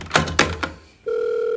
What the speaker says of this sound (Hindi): जल्दी फोन उठा।